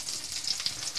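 Bream, a semi-oily fish, sizzles steadily with chorizo in a hot pan. The frying hiss is close and even for about a second, with no talk.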